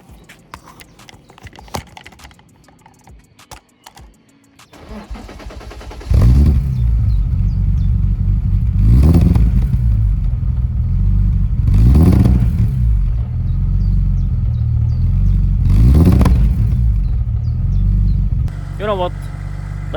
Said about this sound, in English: Okay, so I'm gonna start it up so you can hear how it sounds.